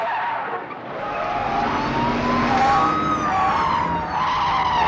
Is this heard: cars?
yes